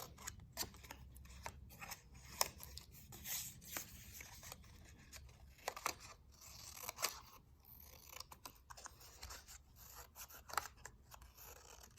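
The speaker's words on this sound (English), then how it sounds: "So I am just going to cut this to look like tall grass." Scissors snip painted paper into tall grass shapes, a quiet string of irregular close crisp cuts and rustles with small pauses between them.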